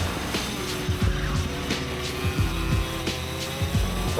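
A race kart at KF1 Karting Circuit lapping fast, its engine buzzing close and loud with repeated rising and falling revs through corners, with light tyre scrub and no speech.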